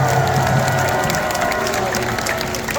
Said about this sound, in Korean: 여러분 오늘 밤에 잠을 잘 주무실 수 있도록 박수 크게 한번 해주세요.